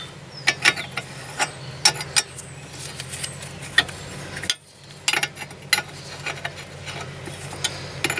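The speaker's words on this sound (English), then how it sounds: "now I get to go ahead and start tightening this up" A ratchet with a 15 mm socket tightens a disc brake caliper bolt, giving sharp, irregular clicks and short ratcheting bursts close by, with a brief quiet break midway.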